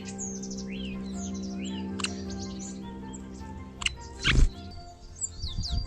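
A field sparrow gives scattered, faint chirps and tweets near its birdhouse, with a brief soft thump and rustle as it clambers in, over a low, steady background hum.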